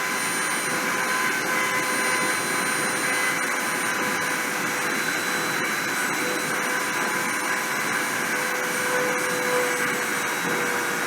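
A printer spindle runs during deposition onto a substrate, giving a steady, loud whirring hum with high tonal whine that holds constant throughout, with no voices.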